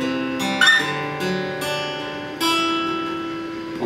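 Guitar intro riff of a song, played the second time through: a few plucked single notes and ringing strings, close and moderately loud, with no talking.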